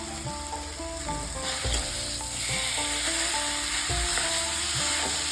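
Potatoes fry in a pan of hot oil with a steady close sizzle, broken by a few soft knocks of a spatula stirring through the pieces.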